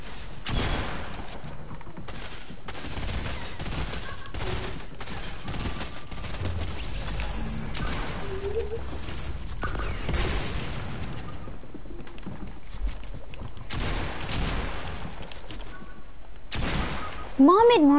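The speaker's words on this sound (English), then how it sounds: "Let me get the SMG" SMG fire in a video game: rapid bursts and scattered single shots crackle continuously while a player talks over the action.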